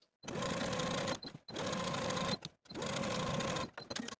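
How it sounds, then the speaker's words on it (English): A sewing machine stitches down the side edges of a pocket for a button-up top in three loud, steady bursts of fast whirring, with brief pauses between runs. "Now I'm going to take it to my sewing machine, and with a 5/8 inch seam allowance starting at the top fold, I'm going to sew down the side edge"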